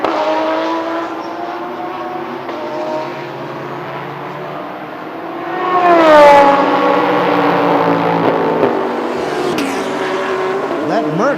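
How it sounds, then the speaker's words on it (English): A Mercedes race car engine roars past during a Thailand Super Series race, its pitch sweeping down as it goes by, loud and whining like an aircraft engine. "That Merc does not sound like a normal car. It sounds like an airplane"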